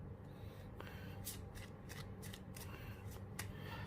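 Tarot cards shuffled and drawn by hand, with a run of crisp, close riffling snaps and soft slides over a low steady room hum, no talking.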